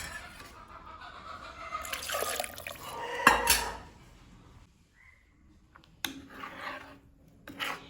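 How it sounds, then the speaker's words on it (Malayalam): A mixer grinder jar is rinsed with water in a home kitchen, with splashing and a sharp clank of the jar midway, then quieter gaps and a few more bursts of water and handling noise. "ഞാൻ ഈ മിക്സിയുടെ ജാറും കൂടി ഒന്ന് കഴുകിയെടുത്തോട്ടെ."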